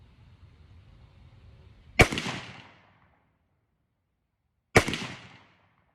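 Springfield Saint Victor rifle with a muzzle brake firing Winchester M193 rounds outdoors: two loud, sharp cracks about three seconds apart, each trailing off in a short echo, with a faint background hum before the first shot.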